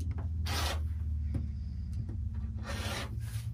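Rotary cutter trimming the edges of a cotton Churn Dash quilt block, two short rasping cuts through fabric on a mat, close and clear over a steady low background hum.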